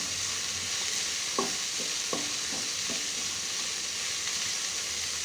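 Chopped onion with capsicum is stirred in a hot pan, with a few soft spoon scrapes over a constant loud hiss of frying.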